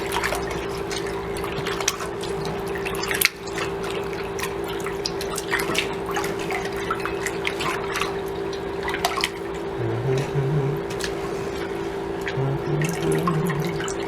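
Cut squid pieces are washed in water, with liquid sloshing, dripping and trickling steadily under a faint background hum, and quiet voices murmur in places.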